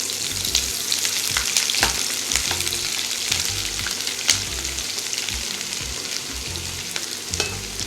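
Onions frying in oil for fish kofta make a loud, even sizzle close up, with frequent sharp spatters and stirring knocks all the way through.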